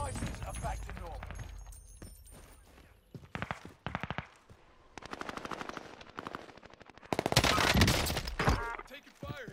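Rapid automatic gunfire in Call of Duty on the Fortune's Keep map, with bursts and sustained machine-gun streams that are loud and close. The shots come in clusters with short gaps between them.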